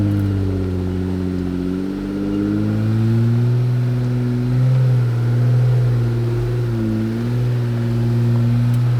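A 4WD on BFG KO3 tyres climbs a slippery off-road slope, its engine droning loud and close with slow rises and dips in pitch as it crawls steadily upward, no voices over it.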